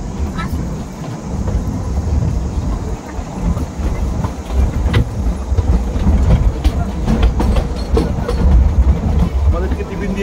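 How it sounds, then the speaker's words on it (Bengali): Himdarshan Express toy train rolling along the Kalka–Shimla mountain line after a halt, a steady low rumble with faint clickety-clack from inside the carriage and people talking quietly in the background. "দশ মিনিটের হল্ট দিয়ে আবার চলতে শুরু করলো হিমদর্শন এক্সপ্রেস"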